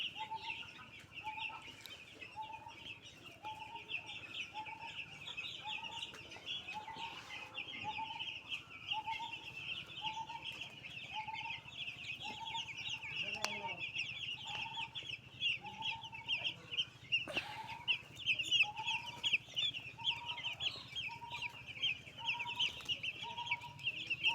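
Week-old chicks on a poultry farm peep continuously in a dense, high chorus while steady, rhythmic clucking repeats underneath throughout, with no talking.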